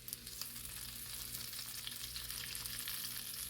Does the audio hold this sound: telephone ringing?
no